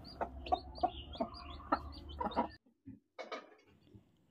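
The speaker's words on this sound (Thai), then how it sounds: "เอาข้าวสารให้ไก่กินในสุ่มไก่ค่ะ" Hens and chicks fed rice inside a woven chicken coop cluck and peep in quick, uneven bursts close by, with a short pause before a final few clucks and no talking.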